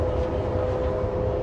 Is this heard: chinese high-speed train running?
yes